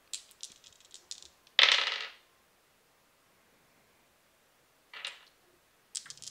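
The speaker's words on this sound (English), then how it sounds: "you're rolling a lot of dice there" Dice rattle and clatter across a tabletop during a tabletop role-playing game session, several short bursts with one louder roll and long silent gaps between them, close and crisp.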